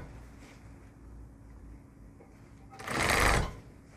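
A sewing machine stitches flat felled seams around curves, humming steadily at a low level before a louder, close burst of fast stitching near the end.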